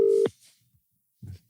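Telephone call ringing, a single short ring tone cut off abruptly, then a brief low thump after a pause.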